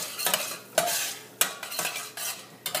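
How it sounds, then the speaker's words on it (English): Food being stirred and sautéed in a medium saucepan for a tuna casserole, close up: a spoon scrapes and knocks against the pan in repeated strokes over a soft, steady sizzle. "we are going to stir it, saute it. And this is just in a medium saucepan."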